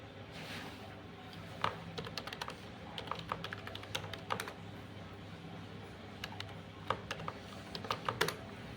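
Typing on a computer keyboard while entering input to a C program, with quiet, irregular clusters of key clicks and occasional sharper taps over a faint room hum.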